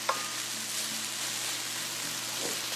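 Peppers, onions, broccoli and mushrooms frying in a pan, a continuous close hiss and sizzle with a faint tap at the start, steady and even throughout.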